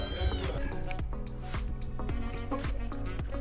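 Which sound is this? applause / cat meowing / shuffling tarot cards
cat meowing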